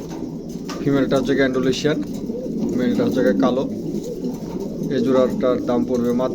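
Pigeons cooing in pairs kept for sale, a female Gandolician and a black male, with repeated soft throaty coos close by under someone talking.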